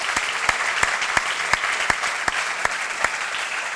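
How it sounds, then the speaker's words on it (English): A crowd at an event applauds student ambassadors from a junior high school: sustained, even clapping at full strength, with a few sharper claps standing out close by and no talking over it. "Let's give them a round of applause"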